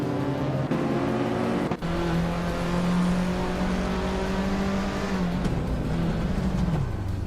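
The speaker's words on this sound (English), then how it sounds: "Donna Sonteri is driving a 1983 Toyota E86, a classic lightweight and nimble car" A 1983 Toyota E86 race car engine in a racing video game, droning loudly with a steady pitch that rises then settles, mixed with other cars' engine whine and a sharp thump near the start.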